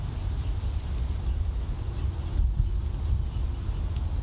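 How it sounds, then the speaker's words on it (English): Springtime wind blowing outdoors among green plants, a steady low rumbling buffet on the microphone, continuous and fairly quiet with no talk. "the wind is windy"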